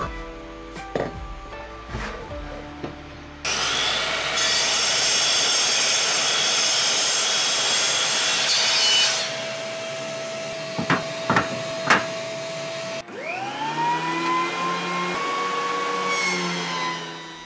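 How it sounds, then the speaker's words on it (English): Hardwood timber from old shelving fed across a jointer with light passes: a loud, steady broadband machine roar lasting several seconds, framed by short knocks and handling clatter, then the motor spinning down with a second whine after. "First, I used very light passes across the jointer to get one side flat."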